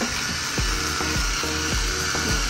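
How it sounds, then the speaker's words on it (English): A gravity grinder crushes Sichuan peppercorns in a kitchen, giving repeated gritty grinding strokes at a steady rhythm over constant loud background noise. "This is called a gravity grinder."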